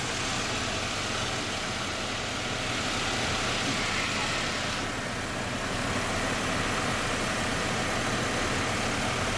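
Steady, loud engine drone from a 2003 Chevrolet Impala 3.8L V6 with a catalyst efficiency fault and secondary ignition problems, settling back toward idle and holding a constant rumble throughout.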